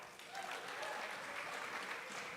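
At a benefit performance for Ukraine, an audience gives performers a round of applause: continuous, even clapping heard at a low, somewhat distant level.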